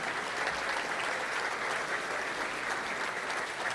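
An audience at a Little Rock Touchdown Club gathering applauds its volunteers, giving steady, dense clapping from a roomful of people that holds level for the whole stretch without cheering.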